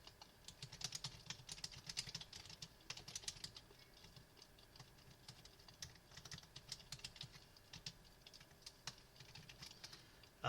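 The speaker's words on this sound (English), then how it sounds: "just typing this in, pardon me here" Fingers type steadily on a computer keyboard, a close, continuous run of quiet clicking keystrokes with brief pauses and no speech.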